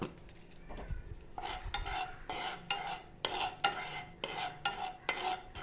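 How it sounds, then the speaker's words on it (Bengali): Salt dry-roasts in a pan for red chilli pickle as a spoon scrapes the metal in repeated rhythmic strokes, each a short bright rasp with a light clink, close and clear without talk. "এবার এর মধ্যে আমি একটু লবণ ভেজে নেব।"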